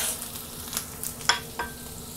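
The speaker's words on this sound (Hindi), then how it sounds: "जिंजर और गार्लिक हमें जस्ट थर्टी सेकेंड्स के लिए सौते करना है" Ginger and garlic sautéing in a pan for veg fried rice, giving a soft, steady sizzle with a few light scrapes and taps from stirring over a short moment.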